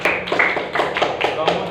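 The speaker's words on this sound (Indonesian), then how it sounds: "Tepuk tangan untuk Bagas." A class claps for a pupil, a short burst of scattered hand claps close by, mixed with children's voices.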